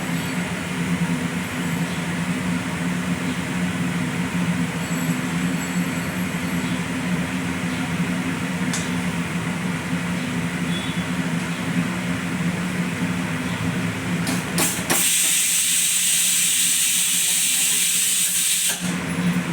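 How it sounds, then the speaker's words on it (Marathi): A pot of Khandeshi patodi curry, a besan-based bhaji, boils on the stove with a constant steamy hiss and low bubbling hum, turning briefly louder and brighter at the end. "एकदम छान अशी मस्त उकळी आलेली आहे"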